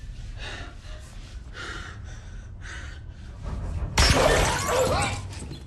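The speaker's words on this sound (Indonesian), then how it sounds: "melepaskan tembakan yang membuat ponselnya hancur berantakan" After a few seconds of heavy gasping breaths, a gunshot hits a phone with a sudden loud shattering crash of breaking glass and plastic, scattering debris for about a second.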